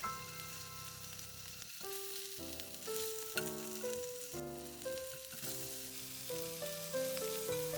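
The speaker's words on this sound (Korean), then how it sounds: "팬에 물이 날아갈 때까지 앞뒤로 노릇하게 소세지가 잘 구워졌으면" Duji pork sausages sizzle steadily as they brown on both sides in a frying pan after the added water cooks off, with melodic music playing loudly over the frying throughout.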